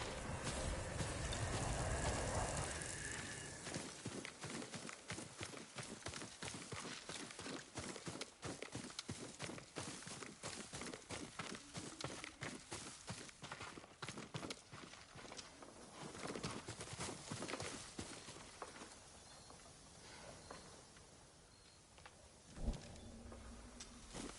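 Horse hooves in the video game Ghost of Tsushima clip-clopping at a brisk, steady pace over a hard surface, close and continuous, with a thud near the end; no voices.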